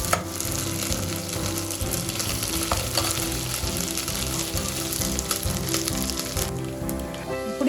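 Ginger garlic paste frying in hot oil for pulao, a steady dense sizzle with continual stirring scrapes, loud and close throughout with no talking.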